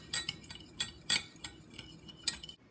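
A metal spoon stirs white sugar into warm water in a measuring cup, giving a run of light, bright clinks and scrapes against the glass at an uneven rhythm, close and fairly quiet.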